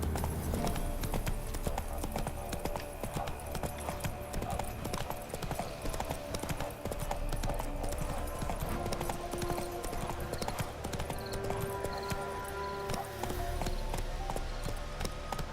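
Steady clip-clop of Roach the horse's hooves trotting in The Witcher 3 game, a continuous rhythmic run of hoofbeats lasting throughout, fairly loud and close with a faint background music bed.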